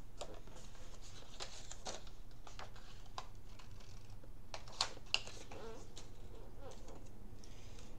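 Scissors cutting through vintage pattern paper up close, a run of quiet irregular snips and crisp rustles over a faint steady background, with no talk.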